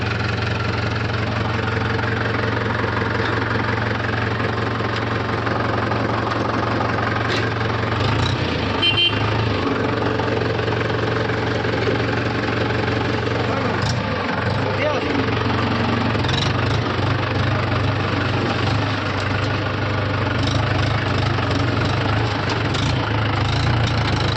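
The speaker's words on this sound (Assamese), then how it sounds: "এই গাড়ী ষ্টাৰ্ট কৰিছোঁ, ট্ৰেক্টৰ আৰম্ভণি" A tractor engine idles with a low, steady chugging drone throughout, close by, with a few brief knocks and rattles.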